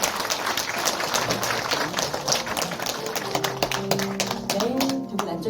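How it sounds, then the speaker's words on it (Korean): Lively audience applause during a plaque presentation at a book re-publication ceremony at a history museum in Gumi, many individual claps forming a dense, steady stream that carries on under voices toward the end. "여러분 큰 박수 부탁드립니다"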